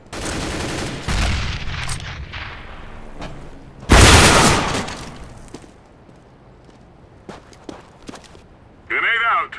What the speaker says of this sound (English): Grenade out. Throwing a grenade.